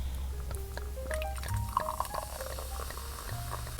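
Sparkling blush wine pours and fizzes with a bubbly, crackling stream and rising foam, close and fairly quiet, with no talking.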